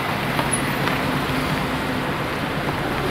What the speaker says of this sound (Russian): Вот они машины.